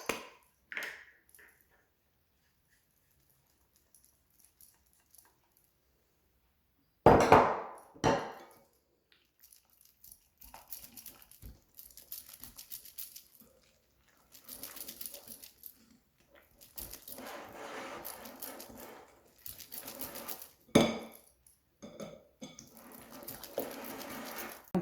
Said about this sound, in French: On vient casser le deuxième œuf auquel on mélange le sucre glace